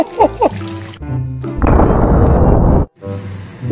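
A toy 500 Magnum pistol with a 3-inch barrel goes off close by, a brief hiss-like burst lasting over a second and cutting off sharply, followed by another fainter burst, with a short bit of voice at the start.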